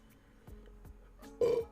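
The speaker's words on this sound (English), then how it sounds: "Oh, jeez, I was burping" A single short burp rises out of quiet background noise, close and fairly loud.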